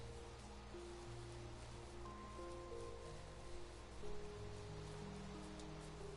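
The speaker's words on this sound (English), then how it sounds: "Can it please stop raining?" Steady rain falling in the Minecraft video game, a constant soft hiss of drops at even loudness, with game music tones running underneath throughout.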